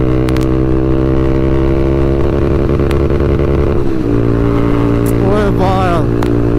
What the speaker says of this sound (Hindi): लिमिटर मारूंगा, इस लिमिटर मारने पर आवाज़ सुनना।